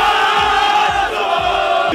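Vasco football supporters chant in unison inside a packed stadium, a loud, sustained mass of voices with a rhythmic pulse roughly every half second.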